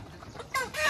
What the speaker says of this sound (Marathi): मागितल्यानंतर पहिला आनंद भाऊने आपल्या जाळीतनं कोंबडी काढतोय।